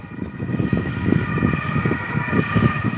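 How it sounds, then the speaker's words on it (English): Ambulance siren sounding on a street in Vienna, a steady wailing tone carried over continuous low traffic rumble, moderately loud and sustained throughout. "I think it's an ambulance."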